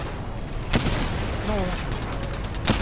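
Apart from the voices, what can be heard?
gunfire in a video game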